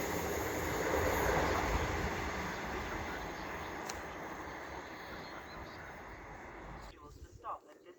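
A Cross Country Class 220 diesel train, unit 220-031, rumbles past at the East Coast Main Line at Church Fenton, loud at first and gradually fading, with brief voices near the end.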